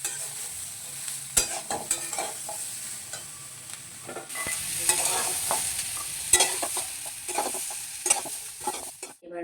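Bell peppers and vegetables sizzle and fry in a pan, with a steady hiss broken by repeated scraping and clattering strokes of a stirring utensil, fairly close and with no talking.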